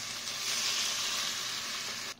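Coconut milk simmers with pork and anchovies in a pan for ginataan pork with taro, giving a steady, even bubbling sizzle throughout with no voices.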